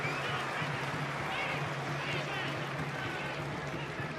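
A football stadium crowd at an A-League match between Auckland FC and Newcastle Jets applauds and cheers in a broad, steady roar, with a commentator's voice running over it.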